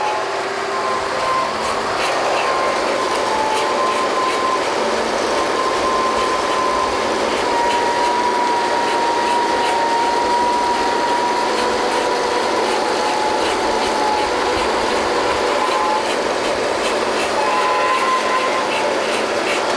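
Draw works winch machinery on an oil well drilling rig running continuously, a loud steady mechanical clatter and grinding with faint tonal whines, heard up close without talk.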